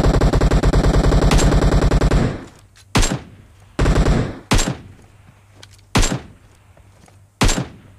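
Gunfire in the mobile shooter PUBG Mobile: a loud, fast automatic burst of about two seconds, then five single heavy shots spaced roughly a second apart, close and punchy with short decays.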